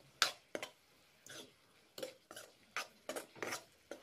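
A spatula scrapes and clinks against a pan while tomatoes are stirred in a little hot water, sharp irregular knocks about every half second, close and clear, with no talking.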